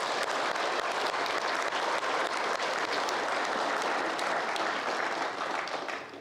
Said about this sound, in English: Please give them another round of applause for all they've accomplished.